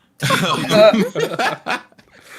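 A podcast host with a strained voice coughs hoarsely several times in quick succession, close to the microphone, with a raspy, throaty quality and no other sound around it.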